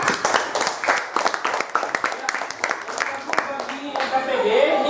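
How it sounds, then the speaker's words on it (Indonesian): Classroom of fourth-grade children clapping in a scattered, uneven burst of hand claps, with young voices chattering over it, fading toward the end. "Tepuk tangan."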